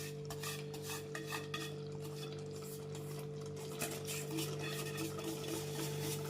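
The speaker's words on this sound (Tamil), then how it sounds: "நம்ம என்ன பண்ணுறோம்னா நல்லா மிக்ஸ் பண்ணி கொடுத்துட்டே இருக்கணும்" Roasted semolina for pineapple kesari is stirred in a pan, giving quiet, repeated scraping strokes over a steady low hum, with no one speaking.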